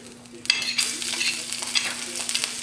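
Salt, Italiano seasoning, green chili and garlic being stirred in hot oil in a pan over medium heat, a steady sizzle with scraping stir strokes, close and clear.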